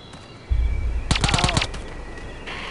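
Suppressed gunfire in the video game Delta Force: Black Hawk Down, heard as a quick burst of several sharp, rapid shots after a low thump, then quiet ambience.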